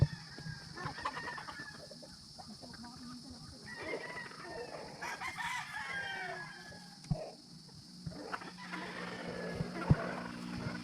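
Gamefowl hens cluck and call around a farm yard, with a rooster crowing now and then over a steady outdoor background.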